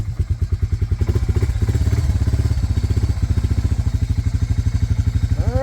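An ATV engine idles with a fast, even chugging putter right after the choke comes off, loud and close, staying steady before a short rising whine at the end.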